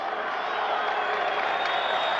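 A large baseball crowd at a 1979 World Series Game 7 between the Pirates and Orioles keeps up a steady wash of cheering and noise, with no clear break.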